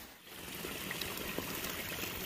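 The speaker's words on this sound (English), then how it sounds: "it is just like a waterfall all the way down here" Runoff streams down a soaked stretch of the Appalachian Trail in a steady, soft rush and trickle, fairly quiet and continuous with no one speaking.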